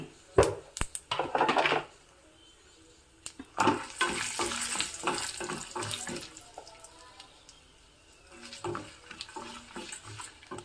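Peanuts frying with a pinch of turmeric in tempering oil: bursts of bubbling sizzle with stirring clatter in between and a quieter stretch near the end.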